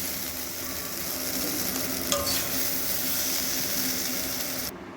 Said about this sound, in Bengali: ঢ্যাঁড়সগুলো প্রায় কিন্তু এইটি পার্সেন্ট ভাজা হয়ে গেছে